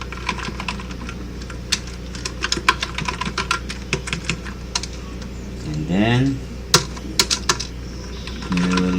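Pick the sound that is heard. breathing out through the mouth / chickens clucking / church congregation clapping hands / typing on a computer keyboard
typing on a computer keyboard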